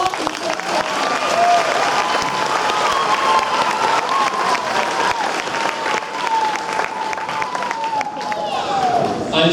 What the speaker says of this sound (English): Please give a round of applause for the women